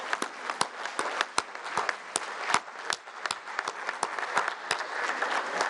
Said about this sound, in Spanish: un aplauso a todas las madres de familia